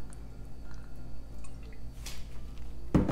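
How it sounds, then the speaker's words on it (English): Olive oil drips and squishes onto chicken breasts in a crock pot, quiet wet sounds over a low background hum, ending with a louder splat. "I'm gonna add a tablespoon of olive oil."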